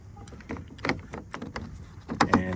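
An interior door handle trim piece on a 2006-2012 Mitsubishi Eclipse is pushed into place, giving a close series of light plastic clicks and scrapes with a sharper snap near the end.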